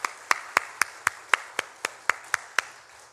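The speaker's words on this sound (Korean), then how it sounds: "다시 한번 우리 뜨거운 박수 함께" A church congregation at an evening revival service claps in unison, about a dozen sharp, evenly spaced claps in a steady beat, heard close and clear.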